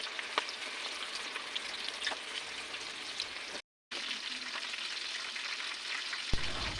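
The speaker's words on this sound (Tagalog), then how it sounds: "Deep fry your Lumpiangshanghai in hot cooking oil." Cheesy lumpiang shanghai deep frying in hot cooking oil, a steady dense sizzle and crackle with small pops throughout, briefly cut out midway, no voices.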